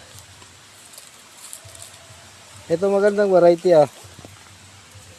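Rain falls on a farm pasture of carabao grass where cattle graze: a steady, soft, broadband patter runs throughout, with a brief nearby voice speaking in the middle.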